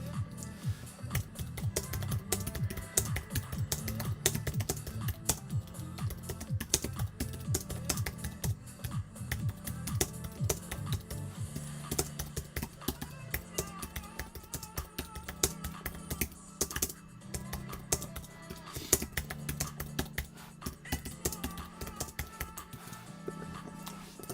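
Steady run of quick keystrokes on a computer keyboard, close and moderately loud, with irregular rhythm continuing throughout and no talking.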